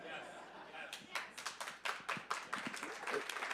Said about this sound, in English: huge round of applause for Leo and Canaan